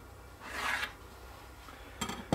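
A pencil drawn along a combination square across a wooden clamp-rack sidewall piece gives a short close scratchy stroke, followed by a couple of soft taps and rubs near the end.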